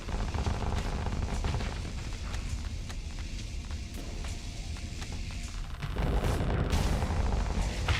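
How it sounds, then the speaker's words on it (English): Heavy Giga Cannon fire in a space combat game, a dense continuous barrage of low booming blasts that swells louder near the end. "Yeah, the Giga Cannons are really good."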